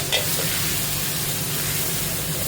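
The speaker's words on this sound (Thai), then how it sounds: "พริกแกงผัดให้หอม" Fresh-pounded Thai curry paste frying in hot oil for stingray stir-fry, a loud continuous sizzle with stirring scrapes close by.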